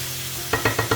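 Tomato sizzles steadily in a hot frying pan, with four crisp stirring scrapes arriving in an even rhythm over the frying hiss, close and alone.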